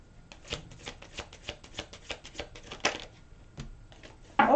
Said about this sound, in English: I put these cards down in the same order that they come out of the deck